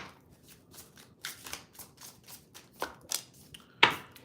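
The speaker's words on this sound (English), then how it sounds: "It's just hard to shuffle." A deck of tarot cards that shuffles stiffly is riffled and shuffled by hand, a series of crisp papery flicks and slaps in uneven bursts with a sharper snap near the end, close and alone without talk.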